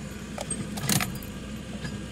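Keys for a 1988 Honda Accord Prestige jangle briefly in a few light metallic clinks, fairly faint and close against quiet background rumble, with no voices.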